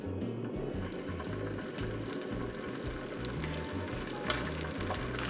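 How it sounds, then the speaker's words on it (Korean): Chicken wings frying in an oiled pan give a steady, soft sizzle with faint crackles and small clinks on top, and no talking. "이렇게 기름 팬에다가 기름 둘러주시고요. 물기를 조금 제거해 주세요. 처음부터 넣으세요. 나중에 넣으면 기름 튀니까. 노릇노릇하게 구워줍니다."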